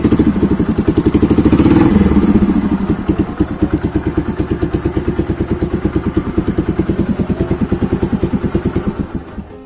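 A Yamaha Byson motorcycle engine cranks on the starter, catches and settles into a steady, loud, close idle with an even rhythmic thump that eases slightly after the first few seconds.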